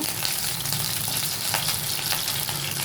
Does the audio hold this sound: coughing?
no